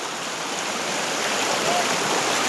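A stream runs outdoors with a dense, loud, continuous rush of flowing water that swells slightly toward the end, close by and with no talk over it.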